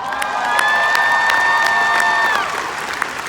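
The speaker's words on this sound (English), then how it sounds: "Can you give them a round of applause?" An audience claps and cheers at a Sunday gathering, rhythmic applause running under a sustained whistle-like whoop, then fading slightly near the end.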